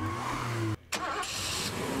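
A car engine in the video game Citizens of Earth runs steadily, cuts out briefly, then starts up again with a burst and keeps droning, loud and alone.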